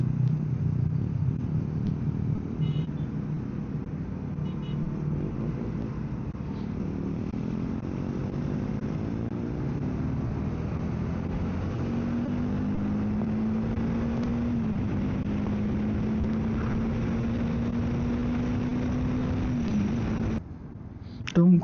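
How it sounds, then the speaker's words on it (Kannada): Motorbike engine on a summer group ride toward Gokarna makes a steady, close drone whose pitch slowly climbs and shifts, with wind noise throughout. "ಗಾಡಿ ಸೌಂಡು"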